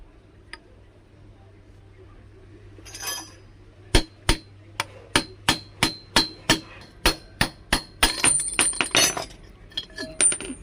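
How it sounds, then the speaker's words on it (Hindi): Repeated sharp metal-on-metal hammer strikes drive a bush out of a commercial mixer jar shaft set in a pipe, about a dozen evenly spaced close blows with some quicker clinking taps toward the end. "ऊपर से ठोक ठोक के किसी चीज़ से सॉफ्ट को निकालेंगे"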